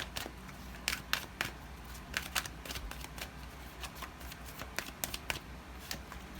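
Tarot cards being shuffled and drawn at close range: a series of crisp riffling flicks and sharp card snaps in irregular bursts, fairly quiet, with no talking.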